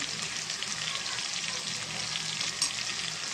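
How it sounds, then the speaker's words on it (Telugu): Ginger-garlic paste fries with onion, tomato and green chilli for a chicken curry, giving a soft, continuous sizzle and hiss with faint stirring and no talking. "దీంట్లో స్పూన్ అల్లం వెల్లుల్లి పేస్ట్ వేస్తున్నానండి"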